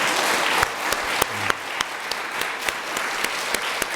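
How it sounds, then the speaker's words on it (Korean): A church congregation applauds in welcome at a Sunday service, a steady wash of many hands clapping with a few sharper individual claps standing out, moderately loud and without talk. "큰 박수로 환영하겠습니다"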